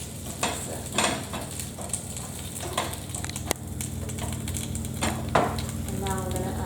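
A spoon stirs drained cannellini and butter beans in a hot pan, giving soft scraping and clinking strokes with a faint sizzle at close range under a steady kitchen hum, without talking.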